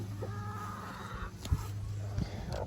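A broody hen in a nest box inside a chicken coop gives low, drawn-out clucking grumbles, close by and fairly quiet, with a couple of soft thumps in between.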